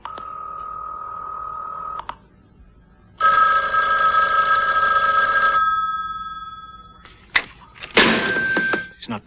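Close, loud telephone rings come in separate bursts, a buzzy tone followed by a longer bright ring, then a few clicks and a sharp clatter as if the handset is picked up.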